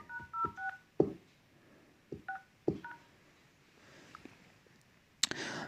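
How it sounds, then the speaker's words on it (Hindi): Mobile phone keypad dialing tones: several short beeping key presses in uneven bursts with small taps between them, fairly close and alone without talk, ending in a brief louder click. "आपने अपने मोबाइल से *#06 डायल करना है"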